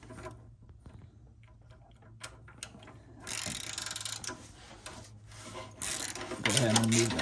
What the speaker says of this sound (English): We're using a 22mm oxygen sensor socket.